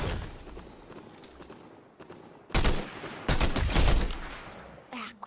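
Gunfire crackles in a video game firefight, scattered shots at first and then two dense bursts of rapid automatic fire, with a soft voice and footsteps between them.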